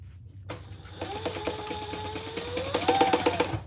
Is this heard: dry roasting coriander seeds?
no